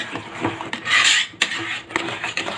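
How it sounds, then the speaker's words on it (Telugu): Coconut milk and rice flour cake batter stirred in a pan, with scraping and rubbing strokes of the spoon against the metal, close and fairly loud, no speech. "ఉడికే వరకు కలుపుతూనే ఉండండి,"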